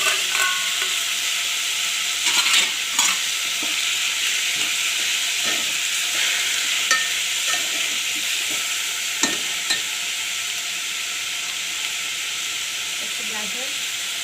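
Tomatoes go into a pan already cooking capsicum for a homemade pizza topping, bringing a steady bright sizzle with scattered scraping stir clicks and spatula knocks throughout, close and fairly loud.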